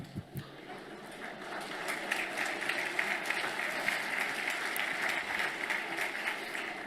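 An audience at a dinner gala applauds steadily, a dense wash of clapping that swells after a few isolated claps and keeps going for several seconds, with faint voices mixed in.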